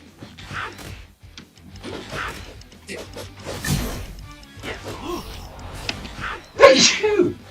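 A person sneezes once, a sharp loud burst near the end, following stretches of talking and other sounds from an anime fight scene.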